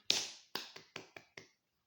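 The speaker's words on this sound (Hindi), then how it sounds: "ताली बजा रहा हूँ, समझ में आ गया।" A single person claps their hands six times in quick, slightly uneven succession, each sharp close-up smack ringing briefly before the next, with no voices and silence after the final clap.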